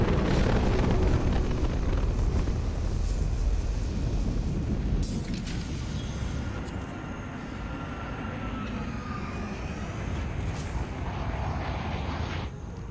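A big explosion booms in Mass Effect 2 Legendary Edition, a loud, broad rumbling blast that swells at once and then slowly fades into a lingering roar with a few faint tonal game sounds.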